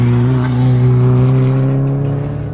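An Alfa Romeo sports car engine drones steadily and loud from inside the car as it accelerates on a track, its pitch rising slightly and then easing off, with no talking.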